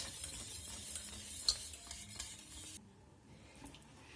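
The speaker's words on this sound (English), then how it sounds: "we keep mixing it until it gets hot" Strawberry cream being stirred in a pot while it heats toward a boil, a soft continuous scraping and swishing with a couple of light clinks of the utensil, then quieter toward the end.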